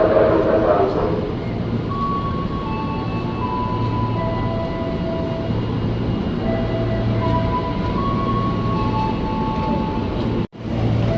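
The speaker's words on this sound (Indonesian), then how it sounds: "Nah, ini ada KRL CRR sini, tujuan Manggarai." KRL electric commuter train bound for Manggarai at Tanah Abang station, a loud steady rumble and hum with faint tonal whines over station ambience, and a voice talking over it.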